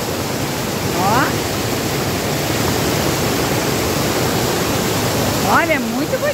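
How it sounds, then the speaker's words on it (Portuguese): A waterfall gives a constant broadband roar that fills the whole stretch, loud and close, with a man's short spoken word and a brief voiced sound near the start and end. "Também tem uma queda d'água, ó. Olha que lindo."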